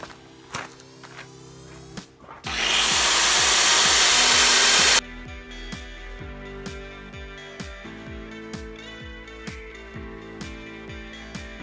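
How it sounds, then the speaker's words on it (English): An angle grinder smoothing the cut edges of square metal poles for a volleyball net gives a single loud, harsh burst of about two and a half seconds. Quieter tonal background sound plays before and after it. "We're just going to grind these edges so that they are smooth"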